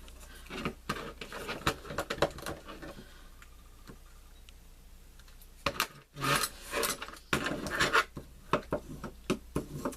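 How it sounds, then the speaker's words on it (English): Tape being pulled and pressed onto a paper stationery folio, with close, irregular crackles, rubs and taps that come in bursts and stop for a brief quiet stretch in the middle. "we're going to take tape and we're going to put it on one side"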